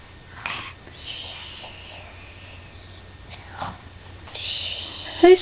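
A child imitates snoring with breathy, snorting sounds, a few short wheezy puffs and snorts indoors that rise at intervals and end in a brief louder squeak.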